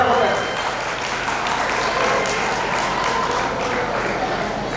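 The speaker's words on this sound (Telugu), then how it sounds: "గట్టిగా చప్పట్లు" Loud, continuous applause for students at Savithribhai Pule Vocational Junior College in Kalwakurthy, a dense crowd clapping at a steady level from start to finish.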